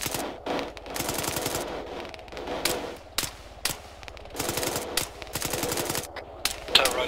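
Bursts of automatic machine gun fire in a tactical military shooter game, long rapid rattling volleys broken by short pauses, loud and close with overlapping shots and a brief metallic click near the end.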